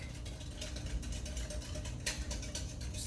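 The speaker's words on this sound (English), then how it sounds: "Going to whisk this up." A whisk beats brownie mixture in a bowl with quick, faint, rhythmic scraping and clicking taps that repeat close by for a few seconds.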